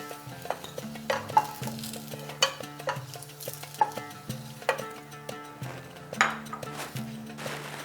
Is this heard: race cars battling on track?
no